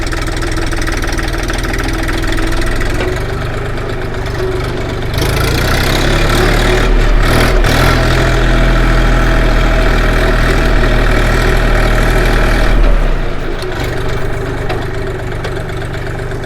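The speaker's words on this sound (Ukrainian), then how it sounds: "Бачите, який він різкий цей міні-трактор" A Forte XT244 three-cylinder mini tractor engine idles steadily and close by, a low chugging rumble that swells slightly louder midway before settling back.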